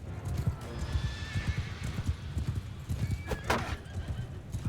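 Horse hooves clip-clop steadily and a horse neighs amid battle noise in Mount & Blade II: Bannerlord, the hoofbeats thudding in a dense rhythm close by while a whinny rises over them midway.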